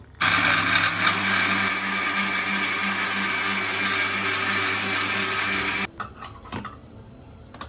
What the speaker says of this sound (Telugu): ఇప్పుడు మూత పెట్టుకొని మిక్సీలో మంచిగా మెత్తగా మిక్సీ పట్టుకుందాం